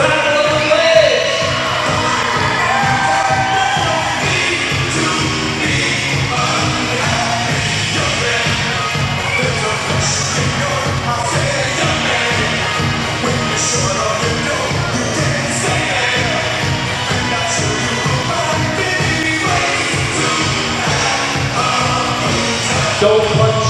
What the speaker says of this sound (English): make some noise for Battle of the Legs!